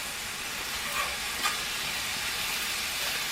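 Chopped onions sizzle steadily in a hot pan while being tossed with a spatula during sweet potato lasagna prep, a dense continuous frying hiss with a couple of faint scrapes, no voices.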